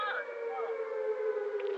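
An air raid siren wails steadily in a single sustained tone, heard at moderate distance and fairly faint.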